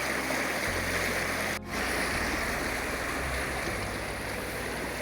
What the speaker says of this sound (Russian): Это вот река Большая Бродяжка, скорее всего.